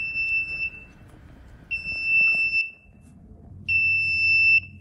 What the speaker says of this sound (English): An alarm will also sound, as it will at the end of a normal run,